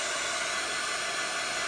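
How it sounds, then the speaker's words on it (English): A craft heat tool blows concentrated hot air to dry paper, giving a steady, close, hissing whoosh like a hair dryer that runs unbroken throughout. "This is shooting out some very concentrated high levels of heat."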